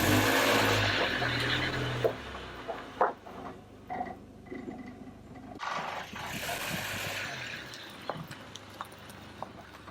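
A Renault Clio Baccara's engine starts and settles into a running rumble with a few revs, close by and moderately loud, interrupted by scattered clicks and knocks.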